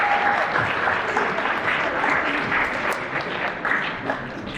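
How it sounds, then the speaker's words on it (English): Applause for award participants at a school athletics awards dinner, a thick, sustained wash of clapping from a large crowd, loud and even throughout with no pauses. "One more round of applause for them, please."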